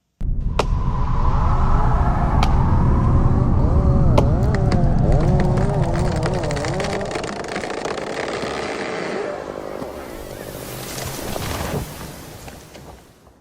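A Grizzly 2x42 knife maker's belt grinder running in a sharpening setup, a loud steady motor whine with wavering tones and sharp ticks, then winding down as a hiss of the belt takes over near the end.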